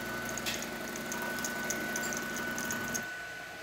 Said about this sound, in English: There's your hot water for you.